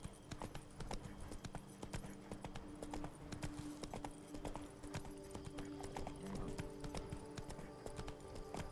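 Geralt's horse Roach clip-clopping in The Witcher 3: Blood and Wine, a steady quick rhythm of hoofbeats on hard ground throughout, with a faint whinny and a voice speaking over the ride.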